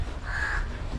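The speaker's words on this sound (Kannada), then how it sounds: "ಯಾವ ಬೀಚ್ಗೆ ಹೋದ್ರೂ ಇದೆ ಕಾಗೆಗಳು ಕಾಟನೆ ನೋಡಿ" Crows cawing near a beach on the Mangaluru coast, one drawn-out caw rising clearly over steady background ambience, fairly close and with no talk over it.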